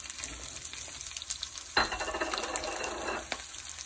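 Pistachios, pumpkin seeds and raisins sizzle in hot ghee, a quiet steady frying hiss with a sharper burst of crackling partway through as more is stirred in.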